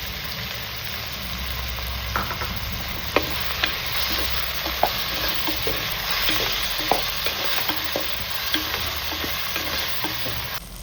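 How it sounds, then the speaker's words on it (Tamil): Steady sizzling of onions sautéing in a pan, with scattered sharp ticks and occasional stirring clicks, close and continuous, no voices. "வெங்காயம் வதங்கிடுது."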